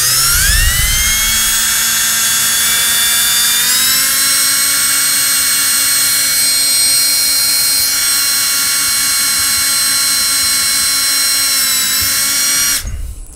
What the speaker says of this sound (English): everywhere you got a mark, you're going to drill a pilot hole